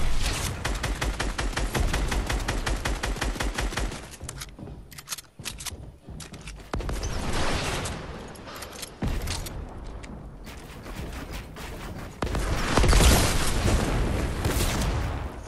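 Heavy weapons fire and rocket blasts in an online shooter game, with dense rapid volleys, a stretch of sparser shots, then a louder booming burst near the end, all close and loud.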